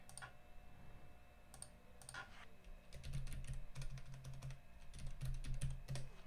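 Someone types on a computer keyboard, with sparse keystrokes at first, then denser bursts of close, light clicking in a quiet room.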